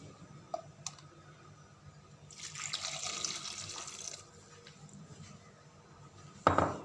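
Water poured from a container into an onion, tomato and chili paste being prepared for dhaba-style dal makhani, a soft splashing pour lasting a couple of seconds, with scattered clicks and clinks of utensils around it in a quiet kitchen.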